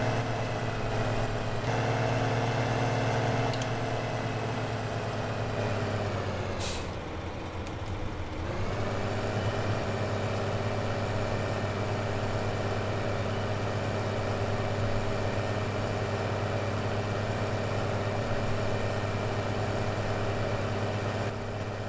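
A rented tractor engine idles in Farming Simulator 2015 with a baler attached, giving a continuous low droning hum. Partway through, a brief hiss sounds and the engine tone dips and recovers before settling back to a steady idle.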